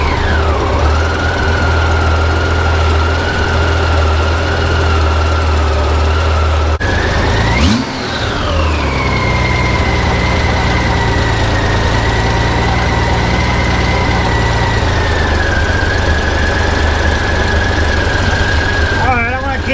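A Honda GL1500 motorcycle engine idles steadily during a carburetor sync, with a brief throttle blip that rises and falls midway before it settles back to a smooth idle, close and continuous throughout.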